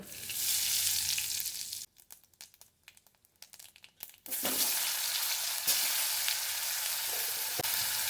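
Panch phoron spices hit hot oil for an egg curry, loud bright sizzling that drops to a quieter crackle of popping seeds, then surges back into a steady close sizzle.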